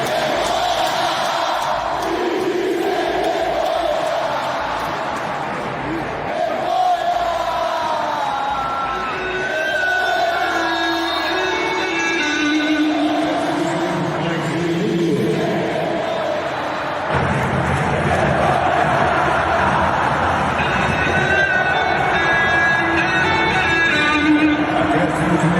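A Flamengo football crowd at a 0-0 match against Internacional roars and chants insults at its own team, a dense continuous wall of massed voices with swelling shouts, steady and loud throughout.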